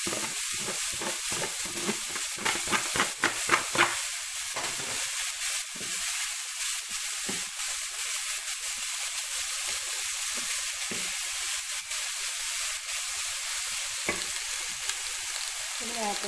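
Fenugreek leaves with a little turmeric sizzle and fry steadily in a pan, with stirring scrapes early on, then a constant crackling hiss close up throughout.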